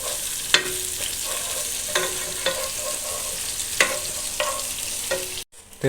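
Onions stirred and fried in a pan with a steady close sizzle, punctuated by regular scrapes and taps of a spoon on the pan, ending in a brief cut to silence, no talk.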